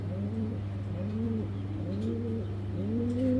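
A racing pigeon coos steadily nearby, its soft rolling calls repeating in a slow rhythm over a constant low hum, with no one speaking.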